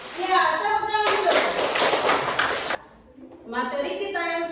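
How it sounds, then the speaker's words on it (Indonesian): Children in a classroom break into a burst of loud hand clapping lasting under two seconds, with a teacher speaking before it and talking resuming after a short pause. "tepuk tangan dulu"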